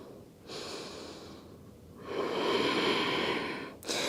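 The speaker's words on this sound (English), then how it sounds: "One more breath here." Slow, audible breaths drawn in and let out during a yoga twist in a vinyasa flow class, two long airy exhales close to the microphone with a quick sniff at the end.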